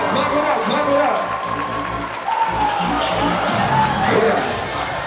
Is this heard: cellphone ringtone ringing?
no